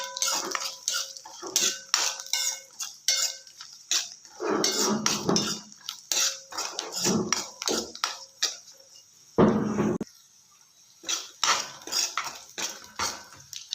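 A spoon scrapes and clinks against a pan while puliyogare spice mix is stirred over a low flame, irregular metallic taps and scrapes, close up, with no talk.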